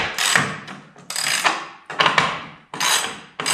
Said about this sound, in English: switch the socket back over and just break the bolts loose